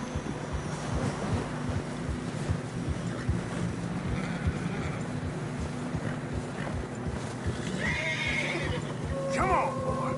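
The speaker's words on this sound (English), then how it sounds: "Horses are getting tired." Horses neigh and clip-clop through fresh snow on a narrow path in a PS4 video game, with steady hoofbeats and a whinny rising near the end, all under ongoing wind and game ambience.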